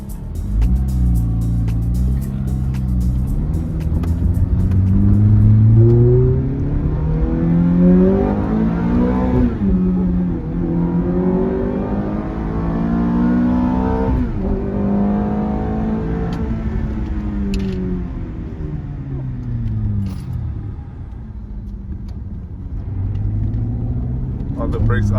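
Ferrari F430 Spider, a roughly 20-year-old V8 sports car, accelerating hard on a road, with the engine note climbing and falling through several pulls. It stays loud and close throughout, and people talk over it.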